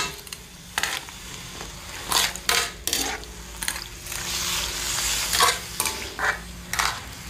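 A spoon stirs a pan of meat simmering in soy sauce, brown sugar, peppercorns, bay leaf, vinegar and a little water, giving repeated scraping strokes over a soft, steady sizzle.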